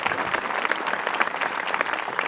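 Steady audience applause fills a hall at a fashion show presentation, a dense wash of many hands clapping continuously and fairly loud throughout.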